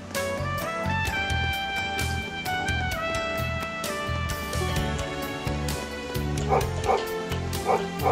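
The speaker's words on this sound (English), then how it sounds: "That dog's always making a racket." A dog in the video game Trails of Cold Steel III barks and yips repeatedly over the game's music, short bursts scattered through a busy musical backdrop.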